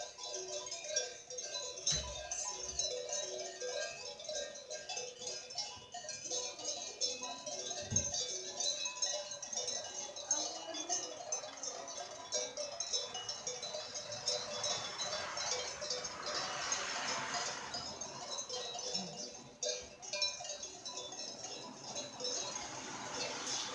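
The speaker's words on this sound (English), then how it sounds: "sound of cows ringing" Bells on grazing cattle jingle steadily and faintly at a distance through a constant busy outdoor background, with a few low thumps and brief voices in the mix.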